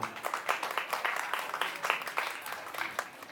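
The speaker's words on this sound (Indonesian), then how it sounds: "Tepuk tangan lagi dong buat persona." Audience applause at a talkshow during a creators' exhibit event, a moderately quiet, steady patter of many hands with small rhythmic swells, heard from a distance for a few seconds with faint talk mixed in.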